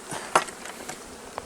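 Bees at the entrance of a declining hive in early fall, a low faint buzz broken by a few sharp knocks and clicks nearby.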